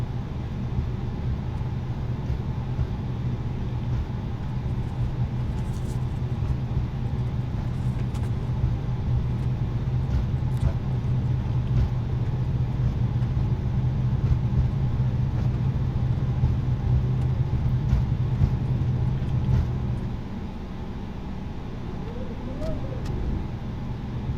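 Airbus A32NX airliner engines spooling to maximum takeoff thrust in Microsoft Flight Simulator, a steady, loud, low roar that holds for about twenty seconds and then eases slightly.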